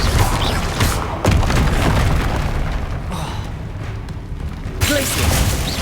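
Bombarda and Confringo blast spells explode in Hogwarts Legacy, heavy booming bursts landing close and loud over a rolling low rumble, with a sharp crack near the start and another burst near the end.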